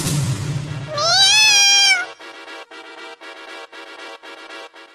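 A cartoon cat in an animated Hindi story lets out a long, drawn-out meow that rises and wavers, followed by quieter rhythmic background music.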